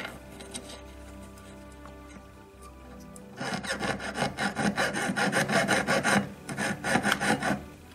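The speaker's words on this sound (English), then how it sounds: "I'll just cut in around about a millimetre or so, just to help me start the filing." A hand file works metal for a wire basket cluster, starting with light scratching and then settling into loud, steady, rhythmic rasping strokes up close. No talking.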